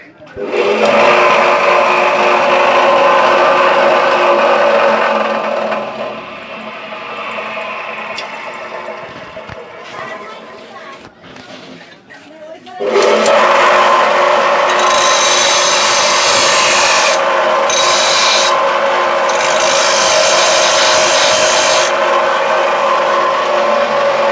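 A repaired 4 HP rod cutter electric motor, freshly coil-rewound, runs with a loud, harsh, steady whine, eases to a lower rougher hum midway, then roars back up at full strength for the rest.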